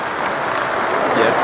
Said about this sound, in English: Like, roaring applause.